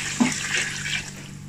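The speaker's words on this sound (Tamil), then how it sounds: "அடுத்ததாக நம்ம 1 லிட்ரு 200 ml தண்ணி வைக்க போகிறோம்." Water pours steadily into a cooking pot for a 1 kg Chennai-style chicken vadi biryani, a continuous close splashing rush that lasts throughout with no voices.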